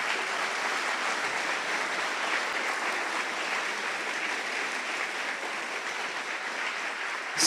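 Steady applause from a crowd, sustained and even throughout with no pauses, rising slightly right at the end.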